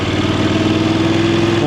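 A VOGE DSX 900 motorcycle engine pulls steadily in second gear at around 2,500 revs, a close, even drone with a low throbbing pulse that stays constant throughout.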